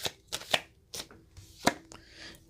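Tarot cards being shuffled and drawn, several short papery riffles and slaps spaced irregularly, close and fairly quiet, with no speech.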